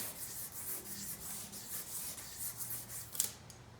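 Sandpaper polishes the crankshaft of a WeldanPower 150 generator in quiet, rhythmic back-and-forth strokes that keep an even rasping texture.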